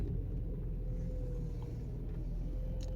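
A 1992 Mercedes 300SE driving slowly through a U-turn on a street, a steady low engine and road rumble heard from inside the cabin, constant and even throughout.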